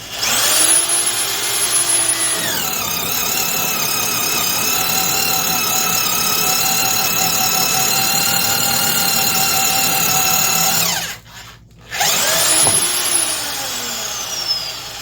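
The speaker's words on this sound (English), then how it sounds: "When drilling deep holes, you have to pull out some of the chips" A loud, close Harbor Freight 1/2-inch corded drill boring a deep hole whines at high speed for several seconds, stops briefly, then spins up again, its pitch rising and falling with the load.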